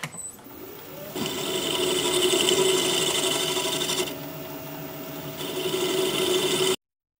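Wood lathe hollowing out a turned piece, a steady whirring hum with a scraping, rasping tool cut that drops briefly and resumes, close and alone before stopping abruptly.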